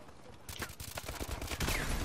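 Rapid gunfire from the futuristic shooter Call of Duty Advanced Warfare bursts in after a quiet half second, a dense, loud volley of automatic shots rattling on without pause.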